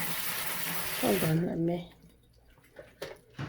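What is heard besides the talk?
rinsing coral mushrooms under cold running water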